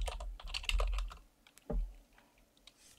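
Computer keyboard typing with a quick burst of close key clicks, a heavier thump, and then a few sparser taps, with no talking.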